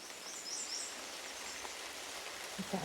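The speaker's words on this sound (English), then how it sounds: "look at the raindrops on the water, Taki." Rain pattering onto water during a rainy walk, a steady soft hiss of drops with faint bird chirps high above and a brief low rustle near the end.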